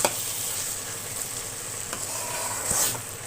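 Chicken skin and gizzards fry and get stirred in a pan, giving a constant bright sizzle with a few scraping strokes and a swell of spatter near the end, close and with no talk.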